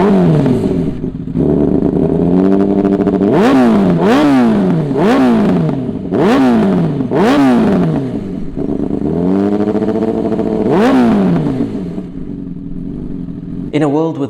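A 2018 Honda CBR 1000RR motorcycle engine revs up and down repeatedly, with rising and falling pitch sweeps over a steady idle, loud and close throughout.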